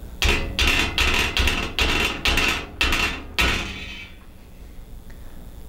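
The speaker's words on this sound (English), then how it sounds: "and then you'll have to tap it in with a hammer." Seven sharp metallic hammer taps drive a jack nut into sheet metal in a steady rhythm, close and loud, followed by a quiet pause.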